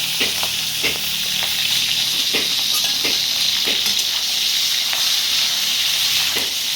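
Prawns frying in hot oil in a pan for a Bengali chingri malai curry, a steady close sizzle and crackle with sharp spitting pops recurring throughout, no talk.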